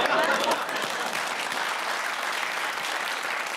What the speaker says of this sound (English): They thought about it. Thought, no, they deserve a clap.